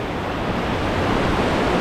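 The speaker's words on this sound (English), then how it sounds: "What a beautiful waterfall." Waterfall along Scotland's NC500 route, heard as a steady, loud broadband roar of falling water that fills the whole clip with no pauses and no voices.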